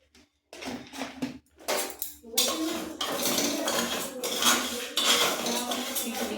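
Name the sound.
mung dal and nuts frying, stirred in a pan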